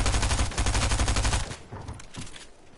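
A fast, rattling burst of submachine gun fire in the Fortnite video game runs close and loud for about a second and a half, then cuts off, leaving quieter game sounds.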